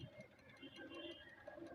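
Valve tappet ticking from a Yamaha R15 V3 engine, a loose, over-clearanced tappet heard near the exhaust side: a quiet, steady run of light rapid ticks over a low idle hum, with a voice faintly in the background.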